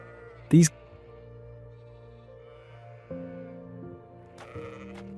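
A goat bleats sharply once near the start, then a few softer, drawn-out bleats follow later over a low, steady background hum, in Ethiopia.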